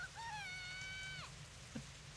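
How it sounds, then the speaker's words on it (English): Heavy rain downpour in the video game Semi;Colon, a steady broadband wash of falling water that stays loud throughout, with a rising whistling tone layered over it early on. "In less than a minute, the rain turns into a full downpour."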